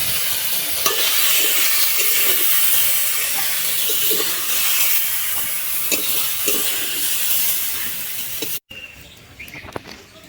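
Swamp eel fish fries in hot oil in a kadai, giving a loud, dense, continuous sizzle with stirring scrapes, then cuts to a quieter room.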